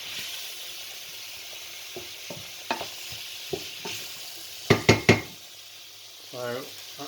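Curry spices including turmeric, chilli, fenugreek and nigella seeds sizzle and fry in a pan, with a low steady hiss broken by a few sharp utensil knocks and stirring scrapes, then a brief bubbling burst near the end.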